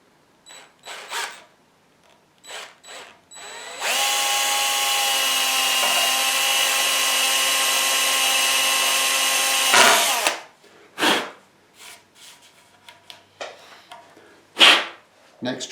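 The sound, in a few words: power drill boring hole through guitar body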